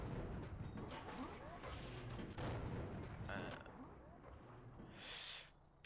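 Booming tank cannon shots from a tank video game featuring the T71, with several sharp blasts and rumbling battle noise filling the stretch, loud and close, while engine and ambient game sounds carry on beneath.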